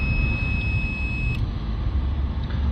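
A multimeter on continuity test gives a steady high-pitched tone for over a second and then stops, heard over low background noise while checking the earth pin of a Mercedes E350 3.0 V6 CDI sensor plug.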